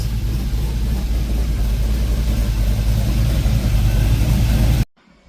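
An LS V8 swapped into a wagon idles loud and steady through its exhaust, with one oxygen-sensor bung left open, before cutting out abruptly near the end.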